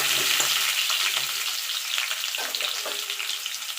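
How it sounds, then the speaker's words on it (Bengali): Small new potatoes frying in oil in a pan for dum aloo, a steady close sizzle with occasional stirring scrapes and no talk. "এবার আলুটা আমি একটু লাল লাল করে ভেজে নেব"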